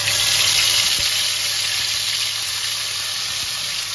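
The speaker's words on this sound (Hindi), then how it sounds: "ये तेल गरम हो गया है, अब इसमें मसाला डाल देंगे।" Masala spices hit hot oil for a fish curry, giving a loud, steady sizzle close by with faint clinks of stirring underneath and no talking.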